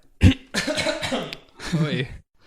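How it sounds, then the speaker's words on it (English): A single sharp cough up close, followed by a person talking. "I tend to cough a lot in these."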